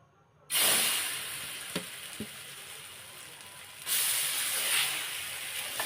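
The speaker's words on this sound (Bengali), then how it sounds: "একটু চেপে চেপে ভেজে নিলাম, উল্টিয়ে পাল্টিয়ে এভাবে ভালো করে ভেজে নেব।" Vegetable paratha sizzling in oil in a frying pan, a steady loud hiss that swells again partway through, with a couple of faint taps from pressing and turning.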